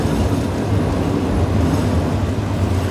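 An express passenger train hauled by a GEA diesel locomotive, number 4525, rolls along the rails in Thailand, making a steady, continuous low rumble and wheel noise that stays loud and even throughout, with no talk.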